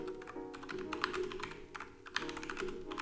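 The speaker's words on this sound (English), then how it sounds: "Okay, so now you can see that I can type anything." Steady typing on a computer keyboard, with quick close key taps in a continuous run over a faint constant background hum and no voices.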